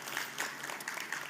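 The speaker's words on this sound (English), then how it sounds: "Let's give Chris another round of applause." Brief, faint applause from a conference audience for a speaker, a soft patter of clapping heard from a distance.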